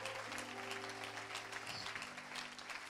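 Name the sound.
congregation applauding the Lord in church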